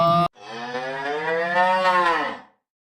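A man imitates a cow mooing with his voice, one long drawn-out low moo that rises slightly and fades, following a brief burst of speech at the start.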